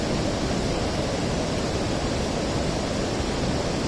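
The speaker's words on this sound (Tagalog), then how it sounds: "Lulugayan Falls, Caldiga." Lulugayan Falls in Calbiga, Western Samar, pours as a loud, dense, unbroken roar of rushing water with no other sounds.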